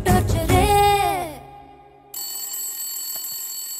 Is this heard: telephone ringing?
yes